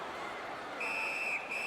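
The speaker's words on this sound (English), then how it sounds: "Puck covered. Whistle blown." A referee's whistle in an ice hockey game, Wild versus Jets, sounds as a sharp, sustained blast over arena crowd murmur, cutting briefly, then resuming.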